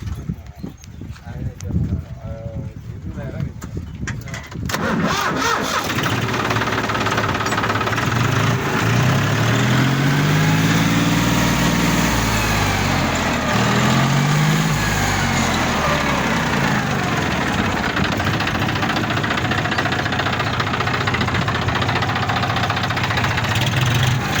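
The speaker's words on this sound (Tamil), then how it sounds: "ஸ்டார்ட் பண்ணி காட்டுறேன் பாருங்கள் வண்டி இன்ஜின் சவுண்டை." A 2015 Audi engine cranks and catches after a few seconds, then settles into a loud, steady idle with rhythmic knocking, while someone talks over it.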